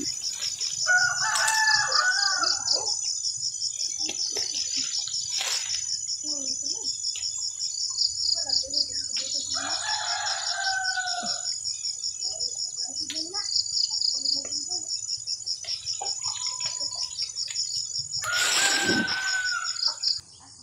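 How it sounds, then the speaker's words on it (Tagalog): On a farm, crickets trill steadily in the background while a rooster crows several times at intervals, along with scattered bird calls. "ipaparinig ko sa inyo ang mga huni ng mga iba't ibang insekto at ang awit ng mga ibon"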